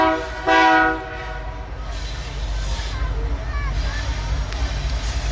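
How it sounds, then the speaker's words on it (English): A freight train approaches on a railway line in Mexico, opening with a loud sustained horn blast and then a steady, growing rumble and rattle of wagons, with crowd chatter and voices mixed underneath. "There's a train coming,"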